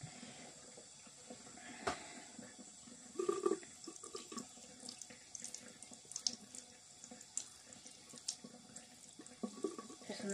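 Water runs from a kitchen tap while a snail is bathed, a steady hissing stream with small splashes and taps as the flow breaks over the snail and the sink.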